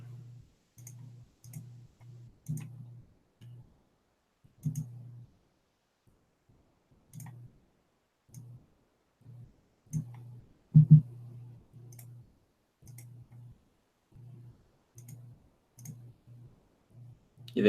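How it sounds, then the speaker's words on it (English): Sparse clicking over a voice chat during a Magic Online livestream: short, irregular clicks come through a microphone in separate bursts, each with a low, buzzing hum. There are quiet gaps between bursts, and no one talks. "I hear clicking"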